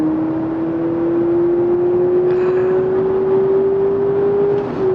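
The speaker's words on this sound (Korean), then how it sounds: "엔진 사운드가 확실히 달라지고 있죠" Honda Accord Hybrid with a 2.0 Atkinson-cycle engine accelerating hard in sport mode, a steady rising engine drone with a clear climbing tone, heard from inside the cabin, loud and unbroken.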